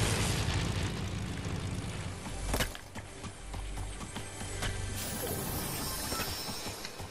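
An airplane engine roars in a multiplayer video game, a loud broad droning rumble with a brief crash-like burst partway through.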